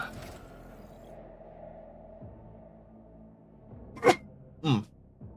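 Two short, sharp sneezes burst out near the end, about half a second apart, the second a bit longer, after a stretch of quiet room tone with a faint low hum.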